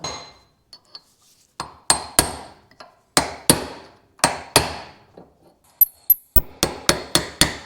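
Metal hammer blows knock a part out of a BMW 210mm differential clamped in a vise: a dozen or so sharp, ringing strikes, scattered at first, then coming in a quick, steady run near the end.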